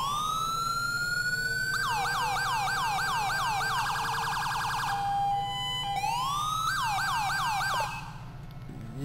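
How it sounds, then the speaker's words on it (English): A new police car siren in GTA V LSPDFR wails in a long rising tone, then switches to a fast yelp pattern. It is loud and continuous and cuts off near the end. "We got a new siren. Turn on the siren here."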